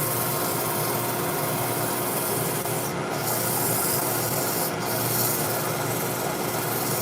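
A turned piece spinning on a lathe is sanded with 320 grit paper, making a steady, loud, continuous rubbing hiss over the machine's hum, with two brief dips in the high hiss.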